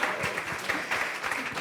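Crowd applause at a Brussels start-up export event, a dense, even patter of many hands clapping together, moderately loud and close, continuing steadily without speech.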